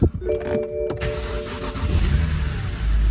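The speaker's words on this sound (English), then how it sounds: "in fact I'll even start it up" A BMW E90 car engine cranks and catches after a short whirring start, then settles into a steady low idle.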